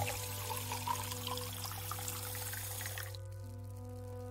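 A drink poured into a glass in a radio drama, a steady liquid trickle and splash running for about three seconds over a low hum, then stopping.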